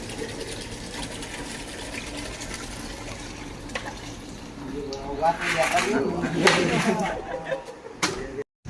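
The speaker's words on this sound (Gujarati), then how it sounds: "આપણે હાલ લાઈવ ઠંડુ પાણી ભરી રહ્યા છીએ" Cold water runs and gushes into containers at a roadside service camp during the Ashadhi Bij festival, rising louder partway through over steady background noise and voices.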